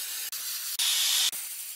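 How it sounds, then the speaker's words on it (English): A spray paint can sprays paint onto R2-D2 replica parts in three short, close, hissing bursts separated by brief pauses, the middle burst slightly louder, with no talk. "So I'm gonna sand them down and spray paint them again"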